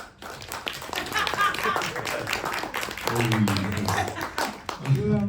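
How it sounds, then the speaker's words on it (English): Clapping from a film festival Q&A audience, scattered and moderate, with people talking over it and laughter or chatter rising toward the end. "So you deserve a little bit of a clap, I reckon."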